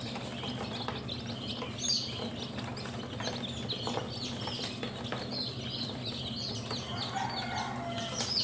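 A flock of chickens and young chicks on a backyard farm clucks and peeps on and off with occasional wing flaps, all at a moderate distance in the background.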